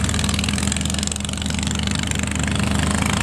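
Festival boat engines churn as boats turn in on the river at Sông Đốc, Cà Mau, a loud, steady, close-up rumbling drone with no talking.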